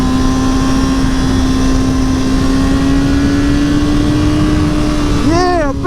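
A 2017 Aprilia Tuono V4 1100 Factory motorcycle drones loudly and steadily at high engine speed with a constant pitch, then the pitch swoops sharply upward in the final half-second as the bike surges forward at full throttle.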